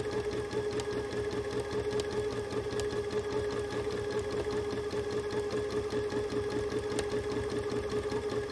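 A sewing machine stitches steadily, its fast, even mechanical chatter running continuously throughout.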